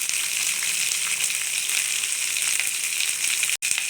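Shallots, green chilies and curry leaves sauté in an oily pan for tomato kurma, giving a steady, loud, close sizzle that runs unbroken apart from a brief dropout near the end.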